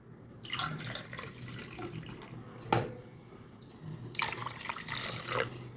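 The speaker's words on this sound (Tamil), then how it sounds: "3 டம்ளர் தண்ணி ஊற்ற போகிறேன்" Water is poured from tumblers into a pot for wheat flour kanji, splashing in three separate bursts with short pauses between them, close and moderately loud.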